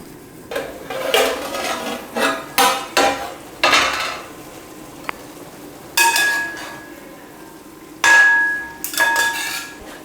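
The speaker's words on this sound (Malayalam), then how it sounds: "നമുക്കിതിന് അടപ്പ് മാറ്റി നോക്കാം" A metal lid lifted off a cooking pot in a Kerala home kitchen, with several clanks and clinks of metal against metal, close and fairly loud, followed by a couple of sharper ringing knocks.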